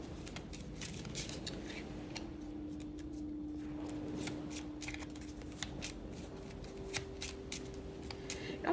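Tarot cards being shuffled by hand, a soft, steady riffling and flicking that runs for several seconds, quiet and close, with a faint background hum.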